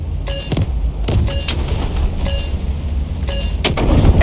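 A vehicle blows up in the Delta Force Hawk Ops game amid battle noise, with repeated loud booms and bursts of gunfire over a dense rumbling background.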